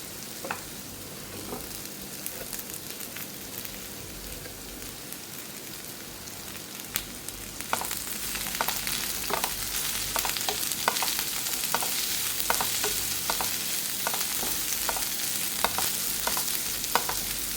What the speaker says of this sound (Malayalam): ബാക്കിയുള്ള സവാളയും അതുപോലെ തന്നെ കറിവേപ്പിലയോടെ ഇതിനകത്തോട്ട് ഇട്ട് കൊടുക്കാം